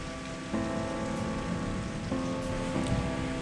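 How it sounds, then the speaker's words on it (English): Light rain patters steadily on surfaces during a December thunderstorm, a soft continuous hiss with faint droplet ticks and no clear thunder. "It's only raining, you know, just a little bit."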